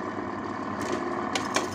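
A new Simaru 781 sewing machine fitted with a thread cutter runs at full speed, making a steady mechanical whir and hum with a few brief sharper clicks near the end.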